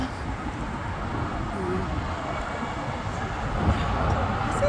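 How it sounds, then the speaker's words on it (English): A tram rolls past beside the lake in Zurich, a steady low rumble of wheels and rail noise that swells slightly toward the end amid background city ambience. "don't ask why tram are passing every time"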